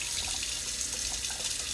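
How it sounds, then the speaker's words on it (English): A kitchen tap runs steadily into a sink, a continuous close hiss of flowing water with no voices. "I'm going to start the kitchen sink now."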